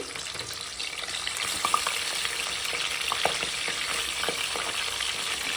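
Raw chicken pieces deep frying in hot oil, a steady bright crackle with scattered sharper pops and spits running throughout, close and fairly loud with no voices.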